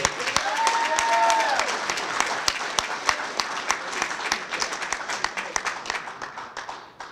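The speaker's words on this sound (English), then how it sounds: "Let's clap it up for Anthony." Applause rolls from a banquet audience at a high school football banquet, loud clapping that swells early and then thins into scattered claps as it fades.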